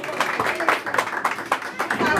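Applause at a birthday celebration with a youth mariachi band: a short burst of clapping from a small audience, with rapid, uneven claps and a voice talking over it.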